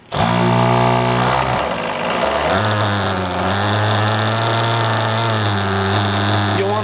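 A nitro engine starts up and runs during break-in, a loud, steady high-revving buzz that changes pitch once early on, then holds a continuous drone.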